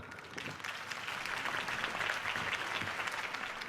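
A crowd claps and cheers in a burst of dense applause inside the Telltale Batman video game, loud and sustained for a few seconds with no speech over it.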